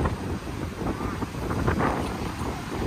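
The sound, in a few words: strong wind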